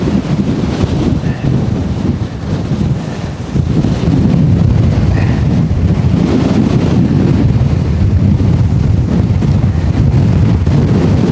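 Strong wind gusting across an exposed valley, loud and roaring as it buffets the microphone, with a brief lull before a sustained, heavier blast.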